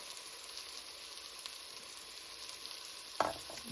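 Tomato paste stirred into a beef stew pot, a steady soft sizzle throughout with one sharp utensil knock against the pot near the end.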